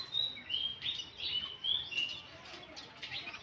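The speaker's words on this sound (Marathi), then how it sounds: "इकडे चिमण्या बघा किती बसलेत." Sparrows chirp in quick, bright bursts beside an old temple, several birds calling close by in an irregular run of short tweets with no talking.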